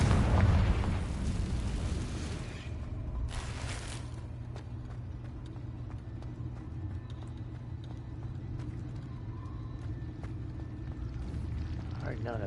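Explosion from a Confringo blast spell in a video game, booming loud at the start and then fading into a long, low rumbling tail with scattered faint crackles.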